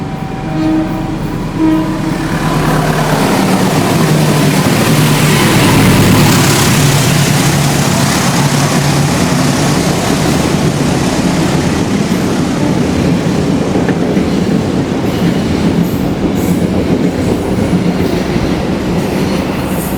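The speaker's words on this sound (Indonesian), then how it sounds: "ini kereta api Blambangan Express persiapan melintas langsung" An express passenger train passes straight through a station without stopping, roaring past at speed, loud and close, with a horn blast near the start and continuous rumbling, rattling wheels throughout.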